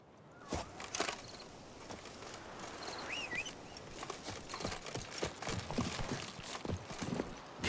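Roach, Geralt's horse in the video game The Witcher 3: Wild Hunt, clip-clops along at a steady walking pace, with hoofbeats fairly close over a soft ambient bed and a few faint bird calls.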